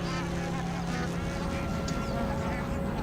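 Bar-headed geese give honking, quacking calls over a dense, steady wash of background noise, with a faint steady hum running throughout.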